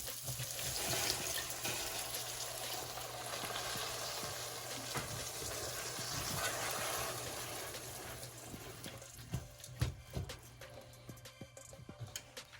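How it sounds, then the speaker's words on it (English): Water poured into a hot pan of chorizo rice gushes and splashes, then settles into a sizzling, bubbling simmer with scattered pops and clicks of a utensil, close and fairly quiet. "I'm going to go ahead and add 1 cup of water."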